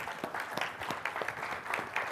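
Audience applause at a DevOps Days tech talk on Kubernetes, a brief steady patter of many hands clapping at moderate volume with no speech.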